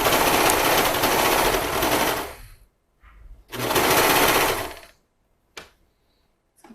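Sewing machine stitching a leggings seam: two loud sustained bursts of rapid mechanical whirring, each about two seconds long, separated by a brief pause, then a single short click near the end.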